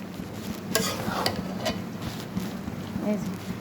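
Onions and peanuts stirred in a cooking pan, a steady low sizzle under occasional scraping strokes of a utensil against the pan, close and continuous.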